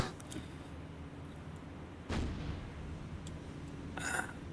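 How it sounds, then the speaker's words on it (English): Distant naval secondary guns firing in a War on the Sea Battle of the Atlantic engagement, a single heavy boom rolling out midway over steady low ambience, with faint pops around it. "Yep, secondaries are firing on Hood."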